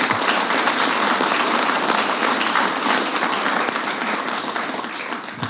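A roomful of people at a city council meeting applauding committee members, dense sustained clapping at steady strength that eases slightly toward the end.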